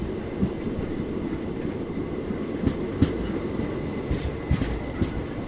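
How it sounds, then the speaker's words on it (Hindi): An Indian Intercity Express train on the Somnath to Ahmedabad line rolls along the rails with a steady low rumble and scattered wheel clicks, heard from on board, with no talking. "Ahmedabad Somnath intercity express cross की हमें यहाँ पर"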